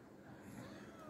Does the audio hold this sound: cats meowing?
yes